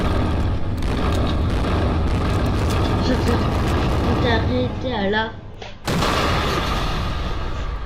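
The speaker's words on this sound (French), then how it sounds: "Voilà, une belle explosion." Loud, sustained booming and rumbling of an explosion fills the whole clip, with a brief drop and then a fresh burst near the end, while people speak French over the noise.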